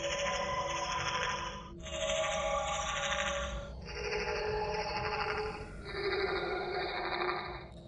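Four sustained keyboard notes from a Secret World Legends puzzle play one after another, each held about two seconds. The tones are clear and steady with no talking.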